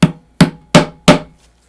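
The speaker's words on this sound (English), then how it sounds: "I have a new little rubber and plastic hammer, so this should work just fine. So just tap that in." Four sharp taps from a small rubber-and-plastic hammer seating a part into a 1934 Grunow 501 antique tube radio, evenly spaced about a third of a second apart, close and distinct with quick decays and no talk.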